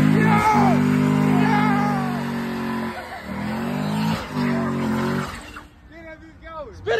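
White SS car doing a burnout, engine revving hard with tire squeal and skidding, loud and close, while people shout and talk over it throughout; the engine drops away near the end.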